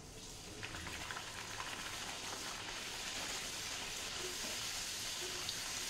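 Puri dough frying in hot oil produces a steady, close sizzling hiss with faint crackles, continuous and even throughout with no talking.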